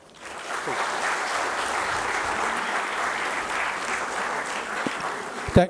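An audience at a National Technology Day convention applauds after a lecture, sustained clapping that rises quickly and holds steady for several seconds before thinning out, with a brief knock near the end.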